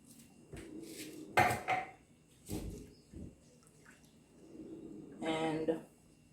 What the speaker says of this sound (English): we're going to drain our pasta, because we want to stop the cooking process